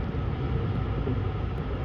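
A JR West limited express train running as the Home Liner to Ogaki, heard as a steady low rumble of wheels and running noise, even and continuous throughout, with no voices.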